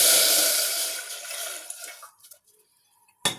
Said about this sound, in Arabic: هجيب كوبايه ونص ميه